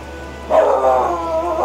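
A dog lets out a brief whining bark partway through, a single drawn-out cry over a faint steady background hum.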